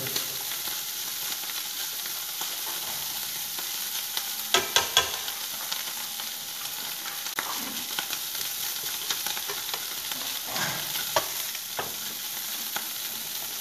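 Continuous hiss of large shrimp stir-frying with ginger in a hot pan, with a few brief scraping and clattering stirs, steady and close, no talking.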